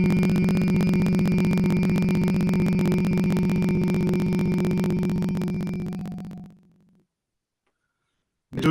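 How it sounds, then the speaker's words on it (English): A steady, low, sustained hum from a person doing pranayama breathing holds for about six seconds, then fades into silence before a brief new sound begins. "and then start the humming again"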